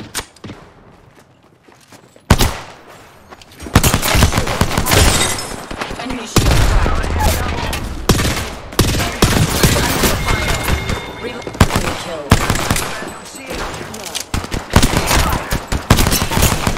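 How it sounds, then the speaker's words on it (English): Gunfire in the Apex Legends video game: dense bursts of automatic fire and single shots crackle loudly through most of the stretch after a quieter start, with thuds and game voice lines mixed in. "enemies are shooting at me. Enemy down. Reload. Opening fire."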